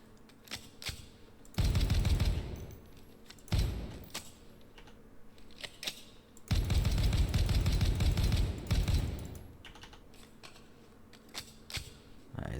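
A 417 rifle fired in the tactical shooter Ground Branch: two long, loud stretches of rapid, heavy shots, with a few shorter isolated reports before and after, close and punchy with no voices.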